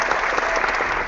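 A short burst of dense crowd applause, steady and uniform across its second or so, plays on a live morning news talk show, with no speech over it.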